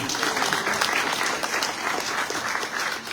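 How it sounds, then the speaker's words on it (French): Audience applause at a French-language community gathering honouring local figures, a steady dense patter of many hands clapping at moderate volume throughout, without a break. "On peut l'applaudir."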